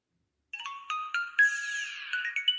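A Prolone smartwatch plays its power-on startup jingle, a short run of bright electronic chime tones rising into a brief sparkling flourish, quiet and close, after a moment of silence.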